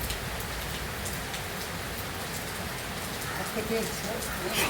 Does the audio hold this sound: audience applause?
no